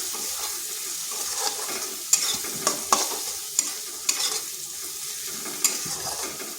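Spices with Kashmiri chili powder are sautéed in a pan for doi katla, the fish curry, with a bright steady sizzle and repeated sharp scrapes and knocks of a spatula every second or so.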